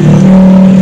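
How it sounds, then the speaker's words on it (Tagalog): Steady engine drone of passing tricycles and motorcycles, a continuous low motor hum filling the whole moment with no pauses. "Maingay yung mga dumadaan na tricycle, mga motor."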